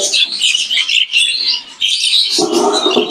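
Show budgerigars chirping loudly and close, a dense stream of bright overlapping tweets and warbles with a busier, fuller chatter toward the end.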